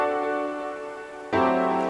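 In FL Studio, a dense chord of many stacked notes sustains as a thick, buzzing synth tone. A second, louder stacked chord then strikes and rings until the end, with no voice present.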